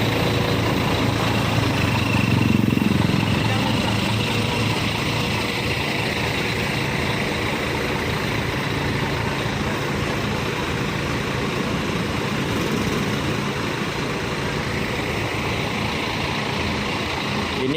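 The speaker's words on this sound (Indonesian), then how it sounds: "ini ada bus 1 yang paling depan, ini bus Harapan Indah ya" Harapan Indah coach bus engine idling at night near a roundabout while returning hajj pilgrims to Langsa, a loud continuous rumbling drone that holds steady throughout, with no voices.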